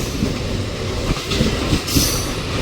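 A local commuter train rolls past with a loud continuous rumble, clattering wheels and a brief high squeal near the end.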